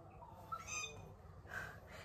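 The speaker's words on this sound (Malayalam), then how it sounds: "ഈ കിളികളുടെ സൗണ്ട് ഒക്കെ കൊണ്ട് നിങ്ങൾക്ക് എന്തെങ്കിലും ഡിസ്റ്റർബൻസ് ഉണ്ടാവുകയാണെങ്കിൽ ക്ഷമിക്കണം" Birds calling outdoors: a few brief, faint chirps and whistles stand out over a quiet background hiss, spaced irregularly across a couple of seconds.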